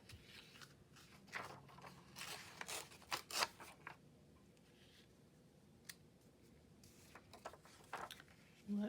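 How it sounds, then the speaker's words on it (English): Collage paper is torn in half by hand, giving several short, dry ripping and crinkling bursts of varying length with quiet pauses between them, close and fairly soft. "Let's tear this one in half."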